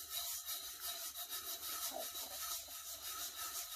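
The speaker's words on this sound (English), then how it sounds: "And I am going to attempt to burnish." Glitter is rubbed and burnished onto a tumbler by hand, making a soft, steady scraping rub that continues throughout, fairly faint and close, with no talking.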